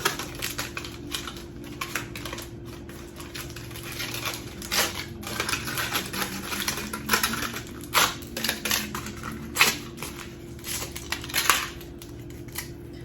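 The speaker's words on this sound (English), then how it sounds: "We're gonna pull it out of the cup and peel off the foil until we're just left with the dome." Foil being peeled off a dried hot glue dome, giving quiet, close crinkling and irregular sharp crackles and ticks that come in bursts over a faint steady hum.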